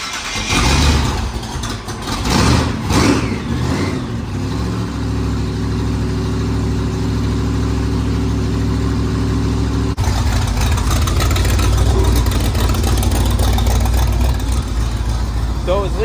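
A race car engine fires up and settles into a steady, loud idling rumble after being put in gear, with people talking nearby early on.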